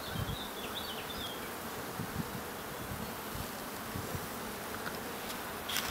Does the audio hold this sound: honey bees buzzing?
yes